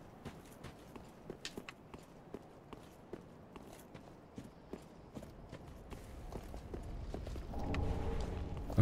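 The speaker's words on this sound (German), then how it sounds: "Aber ich höre da Schritte." Footsteps echo through the Irithyll dungeon in the Dark Souls video game, a steady run of soft, close steps that grow into a louder rumble with a low tonal swell near the end.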